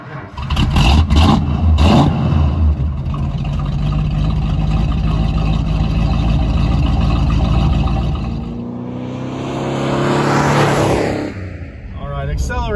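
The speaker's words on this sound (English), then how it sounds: "Acceleration is a lot better than I ever thought it could have been." A 1970 Plymouth Superbird engine roars loudly and steadily up close for most of the stretch, then dips and swells again with rising pitch as the car accelerates hard.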